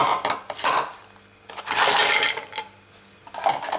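Several soft clattering thuds and rattles as raspberries and apple pieces drop into a metal saucepan, in short uneven bursts with pauses between.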